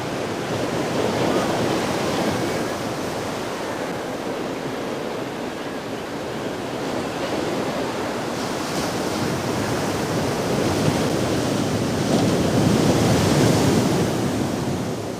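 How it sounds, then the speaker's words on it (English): Pacific Ocean surf crashes below a Steller's sea eagle cliff nest in Russia, a continuous roaring wash of breaking waves mixed with wind buffeting, swelling slightly toward the end. "a nest overlooking the crashing waves of the Pacific"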